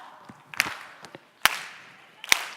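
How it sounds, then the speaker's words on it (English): A group of people at a conference session clap together in a few sharp, separate claps spread across a couple of seconds, with scattered softer hand sounds between them, moderately close in a room. "And then we clap."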